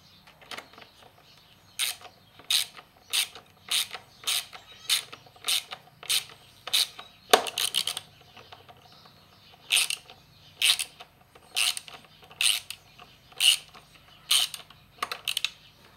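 A socket ratchet works a bolt on a 12.5 hp Briggs engine. It gives a run of sharp, evenly spaced clicks, pauses, then starts a second clicking run. The sound is close and clear with no talk.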